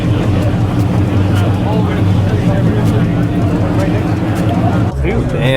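Rotary-engine cars idling and revving at a California car meet, a steady loud engine drone throughout with a brief dip near the end, close by under excited voices talking.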